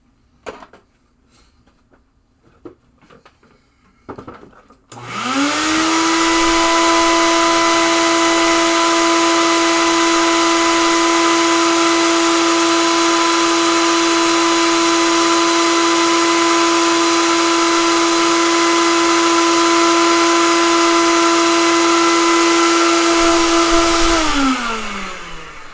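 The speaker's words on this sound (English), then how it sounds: "We have to vacuum that off." A vacuum cleaner cleans dust off a Williams pinball machine board, starting after a few faint handling sounds and then running loud and steady with a constant whine for about twenty seconds before cutting off.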